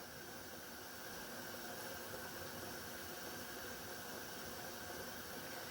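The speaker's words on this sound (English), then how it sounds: "you want to see a steady flow of steam. Sometimes you can even hear it coming from the vent pipe." Steady broadband hiss of steam venting from a pressure canner's vent pipe during tomato sauce canning, continuous and even throughout with no talk.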